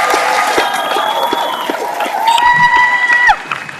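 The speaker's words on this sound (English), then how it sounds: "So let's give our graduating class a great round of applause." A commencement audience claps and cheers for the graduating class, dense applause with whistles and shouts rising over it, loud and close.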